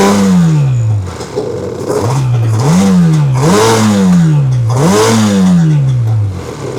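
A Yamaha WaveRunner engine with a still-troublesome carburetor runs loud and close, revving up and dropping back in about four repeated swells with a clattery, rough tone and no talking.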